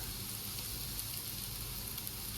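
Onions hit hot oil in a pan and sizzle steadily, a dense close hiss that runs without a break.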